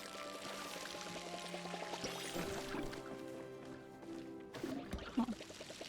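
Watering-can splashes pour over trees in the cozy farming game Drops, a soft trickling stream running for a few seconds amid light chimes and background game music, with a brief louder splash near the end.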